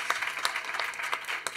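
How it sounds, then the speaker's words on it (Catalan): A crowd claps in dense, steady applause, loud and close, with no voices standing out. "un aplaudiment per ella"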